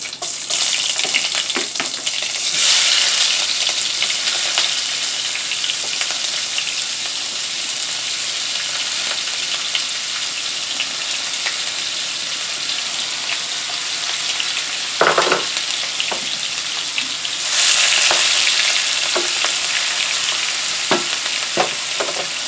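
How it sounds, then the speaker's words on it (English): Vegetables sauté in hot bacon grease in a pan, giving a loud, continuous close sizzle like heavy rain. Occasional clacks from stirring and a couple of surges of stronger hissing break the steady crackle, and no one speaks. "I'm going to throw the vegetables on top of that, start the sauteing process"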